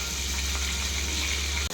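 Onions and green chilies frying in hot oil produce a steady, close, continuous sizzle with no pauses.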